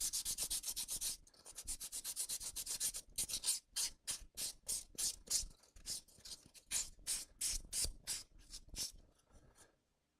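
Sandpaper rubs over a landscape piece in quick back-and-forth strokes, first as a blurred continuous rasp, then as a run of distinct, evenly paced scratchy swipes that thin out and fade at the end.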